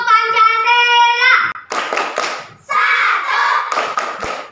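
Children perform the Tepuk Pancasila clapping chant at a primary school: a held sung note first, then bursts of rhythmic clapping and thumps, loud and close, mixed with children's chanting voices.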